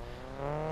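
A steady engine hum with layered tones rises slightly in pitch and loudness partway through, like a video game car revving briefly at idle.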